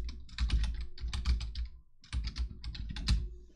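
Computer keyboard typing in a quiet room, two bursts of quick, soft keystrokes separated by a short pause, close and faint with no voices.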